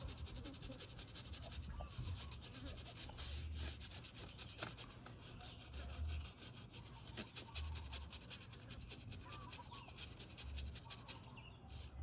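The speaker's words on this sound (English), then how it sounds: "Kind of using my nail to scrape it off because it kind of loosened it." A fingernail scrapes softened exterior paint off a window screen, a continuous faint rasping rub that runs steadily throughout at close range, with no talking.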